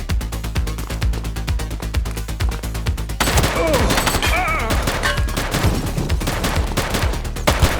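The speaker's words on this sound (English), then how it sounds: "She's shooting!" Rapid gunfire erupts in The Precinct, a police action game, as a shooter opens fire: dense, loud bursts of shots crackle continuously over a busy mix, growing heavier partway through.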